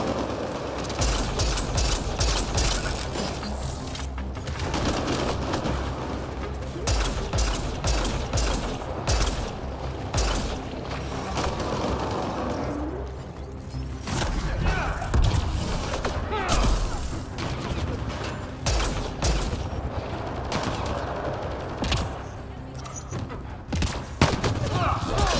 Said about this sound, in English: Oh wait, somebody shooting me.